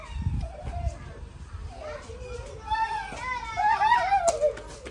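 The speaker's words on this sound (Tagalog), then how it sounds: "Maingay yung mga bata eh." Noisy children playing at a family gathering, their high-pitched shouts and chatter rising and falling close by, with an adult voice briefly mixed in.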